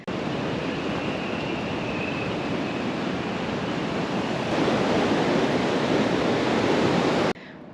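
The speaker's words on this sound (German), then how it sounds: "es windet wie verrückt" Strong wind buffeting a camper van at a campsite in Venice: a dense, continuous roar that swells louder partway through, then cuts off abruptly near the end.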